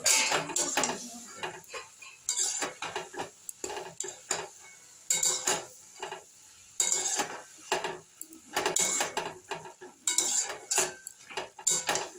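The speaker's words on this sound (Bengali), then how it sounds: "ঠাকুরি পাতাটা দিয়ে একটু নেড়ে নেবো এইভাবে" Thankuni leaves stirred in a cooking pan, with a spoon scraping and clinking against the metal in irregular bursts separated by short pauses, fairly quiet and close.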